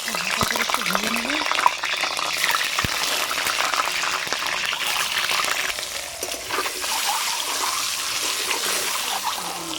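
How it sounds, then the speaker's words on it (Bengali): An egg fries in mustard oil in a hot kadai, giving a continuous close, crackling sizzle with bubbly spatters that stays fairly even throughout. "ডিমটা ছেড়ে দিলাম ডিমটা"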